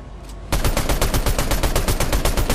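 Rapid video game gunfire erupts after a brief quiet lead-in, a loud, evenly spaced burst of shots repeating for about two seconds.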